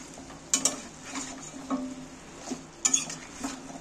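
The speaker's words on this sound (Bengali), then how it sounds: "এতে তো জল টল কিছুই দেওয়া হয়নি, অমনি নেড়ে নেড়ে কষানো হচ্ছে।" Fatty, salted chicken pieces stirred and fried dry in a pot, with no water added, for biryani: a soft, steady sizzle broken by a few sharp spoon scrapes and clinks against the metal, close by, with no talking.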